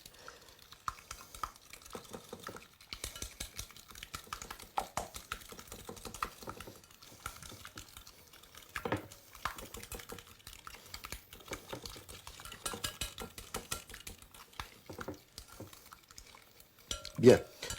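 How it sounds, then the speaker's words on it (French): Batter for a strawberry and chocolate cake square being beaten in a bowl with rapid, irregular whisking clicks and scrapes that run throughout at moderate level, close by. "Bien battre pour que tout soit bien mélangé."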